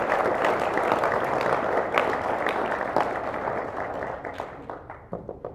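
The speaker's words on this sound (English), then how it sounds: "Please join me in thanking them with a round of applause." Audience at a high school National Honor Society induction ceremony clapping steadily, a dense wash of applause filling an indoor space that thins out and fades into scattered claps toward the end.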